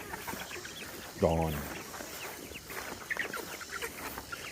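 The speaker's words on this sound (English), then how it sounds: "We've got quite a bit of chickens to feed." Backyard chickens cluck and squawk around a chicken house at feeding time, one loud call standing out above quieter clucking, while someone speaks briefly.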